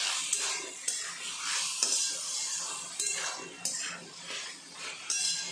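A spoon stirring pasta sauce with tomato ketchup and soy sauce in a pan, close and fairly loud, the sauce sizzling softly under repeated sharp clinks and scrapes of metal on the pan at an uneven rhythm.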